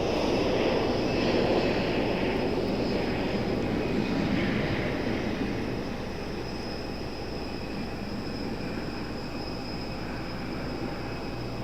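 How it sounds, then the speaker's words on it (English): A loud, steady jet engine roar from a departing Airbus A320 at Raleigh-Durham International Airport fills the clip, a broad rushing rumble that holds strong and then eases slightly as the aircraft climbs away. "Loud departure for that A320."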